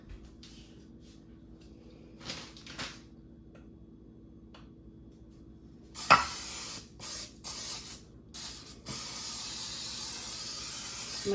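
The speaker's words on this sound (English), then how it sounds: "Let me spray this real quick" Aerosol cooking spray hissing onto a heavy casserole pan in several short bursts followed by a longer continuous spray, close and crisp against a quiet room.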